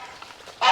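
Laying hens in a chicken coop give a sudden loud squawk at the end, after a short stretch of quiet rustling, close by and alone.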